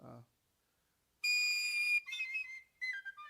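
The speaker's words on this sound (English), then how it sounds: "So this is a penny whistle, and think of airs, jigs, different things like this." Penny whistle playing a short phrase of an Irish air: a bright, clear held note followed by a few quick ornamented notes, close and fairly loud, after a brief spoken fragment.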